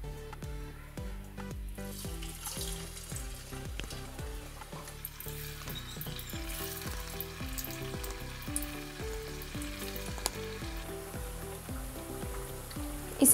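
Battered mustard flower pakoras fry in hot oil with a steady, dense sizzle and bubbling that carries on throughout, close and even, with faint background music and no talking.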